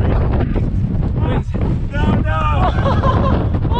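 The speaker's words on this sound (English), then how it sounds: "The wind is crazy." Strong outdoor wind buffets the microphone in loud continuous rumbling gusts, with excited voices shouting over it.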